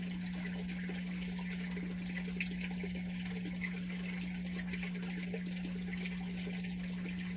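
Water from an aquaponic system's automatic bilge siphon runs and splashes continuously in a steady stream, with a constant low mechanical hum underneath.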